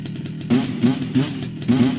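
A moped engine revs in repeated bursts, four sharp throttle blips with crackling, popping exhaust, close and loud.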